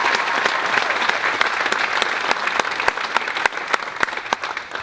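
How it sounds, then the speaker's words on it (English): An audience at a hall of fame ceremony applauds in a dense, steady wash of clapping, with a few sharper individual claps standing out as it goes on. "How about a round of applause for Chico's family?"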